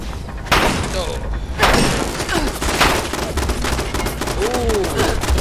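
Gun turrets in the Fallout 76 game blast out rapid bursts of loud gunfire, dense and continuous across the whole stretch, with in-game sound and muffled voice sounds mixed through the barrage.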